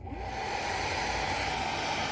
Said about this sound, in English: You can also speed dry it by using your hair dryer for just a few seconds.